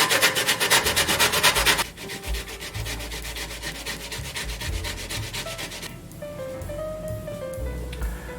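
Beets being grated by hand in a home kitchen during holiday cooking produce close, rhythmic rasping strokes, first dense and loud, then a pause and softer rubbing scrapes, with no voices.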